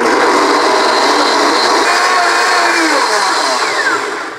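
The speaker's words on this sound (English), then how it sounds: "So I've got it in my blender here." A kitchen blender purees chicken curry sauce with a loud, steady whirring drone that holds for several seconds before easing off at the end, with no talking over it.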